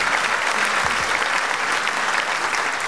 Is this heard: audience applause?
yes